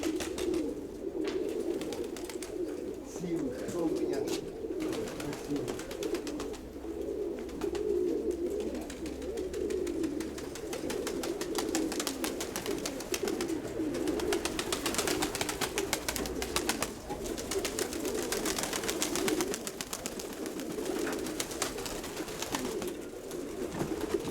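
Domestic pigeons coo in a loft housing young birds and an old breeding pigeon, with steady soft murmuring calls layered over one another and continuous wing and feet rustling close by, no talk.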